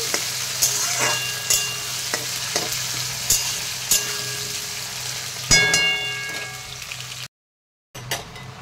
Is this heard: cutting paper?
no